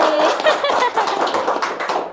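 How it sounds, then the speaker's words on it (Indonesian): Applause at a ceremony honoring Bank BJB, where the bank hands over a contribution to BPJS Ketenagakerjaan: dense, steady clapping from a crowd for about two seconds, mixed with scattered chuckles and murmuring voices. "Luar biasa sekali BJB, tepuk tangan semuanya"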